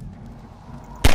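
An explosive barrel blows up in Half-Life 2, a sudden loud, booming blast near the end after a low, steady game background rumble.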